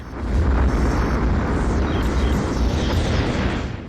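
A Dreadnought capital ship blowing up in Colony Wars, a long rumbling space explosion with deep roaring body that swells quickly and stays loud for several seconds with crackling debris over it.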